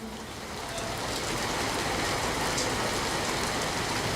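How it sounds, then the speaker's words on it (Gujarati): Heavy rain pours down in Ahmedabad in a dense, steady roar that swells slightly in the first second and then holds loud and even. "વરસાદ અત્યારે બંધ નથી થઈ રહ્યો"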